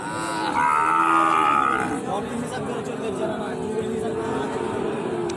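A loud, drawn-out moo rises up front from cattle being loaded at a cattle sale, then fades into a steady murmur of voices and farmyard noise.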